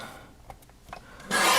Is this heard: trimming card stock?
yes